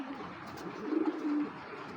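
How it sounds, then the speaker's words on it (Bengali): A female racing pigeon gives a brief, soft, low coo close by, a short burst followed by a sustained note, over quiet room background. "এটা মাদি কবুতর"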